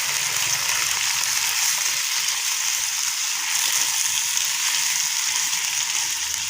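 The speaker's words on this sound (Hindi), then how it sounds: "चलिए अब हम इसमें चिकन ऐड करते हैं। चिकन को हमने प्याज के साथ फ्राई करना है।" Chicken frying with onions in a pan gives a loud, steady sizzle and hiss that runs without pause, close by and with no talking.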